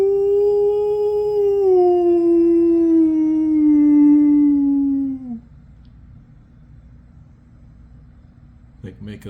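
A dog lets out one long, loud, close howl that slowly slides downward in pitch for about five seconds, then breaks off into near silence with a faint rustle at the end.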